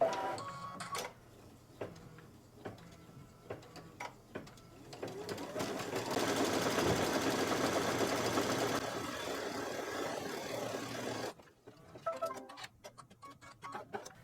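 A BES4 embroidery machine stitching a quilt block design through fabric, starting with scattered clicks, then a steady loud mechanical whirr with rapid ticking for several seconds before stopping and returning to occasional clicks.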